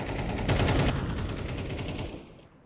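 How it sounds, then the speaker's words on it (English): Sustained automatic rifle fire from a Counter-Strike match as a magazine is emptied through smoke: a dense, rapid burst that stays loud for about two seconds, then tapers off, with no talk over it. "choosing to dump the rest of that mag through the smoke"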